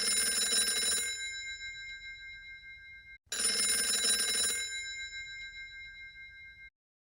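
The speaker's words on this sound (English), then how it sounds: "Ringing the police department." A telephone bell rings twice in clear bursts, each ring sounding for about three seconds and then fading, with a short gap between them.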